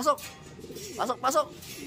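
A racing pigeon returns from a training flight out of Concepcion, Tarlac, during north summer race preparation, giving a few brief soft coos mixed in with people talking nearby.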